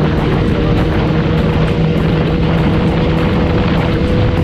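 A motorcycle in motion, captured by GoPro audio, gives a loud, constant engine drone mixed with wind roar, with no break throughout.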